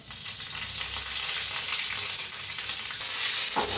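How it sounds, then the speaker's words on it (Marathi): Asafoetida, green chilies and curry leaves hit hot oil for the tempering of an amla chutney, giving a loud, continuous hiss and crackle that swells near the end, with no voices. "तेल चांगलं तापलं आहे ह्याच्यात घालूया आपण हिंग थोडंसं हिरवी मिरची दोन तीन पाकळ्या कढीपत्त्याच्या"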